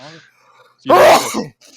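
A single sharp, loud sneeze bursts out close to the microphone in the middle of casual talk, with a voice speaking briefly before and after.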